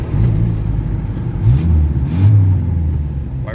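A 1986 Jeep Comanche's 2.5L four-cylinder engine catches after a push start and revs steadily, a low continuous drone with two brief surges, loud and close with no talking.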